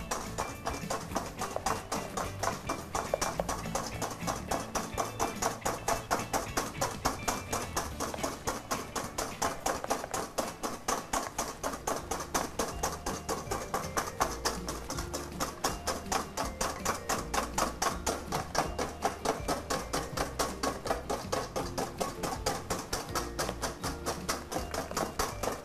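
Chocolate cake batter stirred by hand with crushed instant coffee for a flourless chocolate cake, giving a steady, rapid run of soft tapping and scraping strokes, close and even throughout, with no talk over it.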